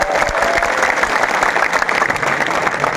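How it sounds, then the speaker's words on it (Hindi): A dense crowd claps steadily and loudly at a Congress party political rally, welcoming the state president Dotasra. The applause is continuous and fills the whole moment with no pause. "डोटासरा जी का ताली बजा के स्वागत।"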